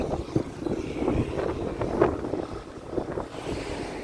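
Steady gusting wind buffets the microphone, a continuous rough rumble with faint water or waves beneath it.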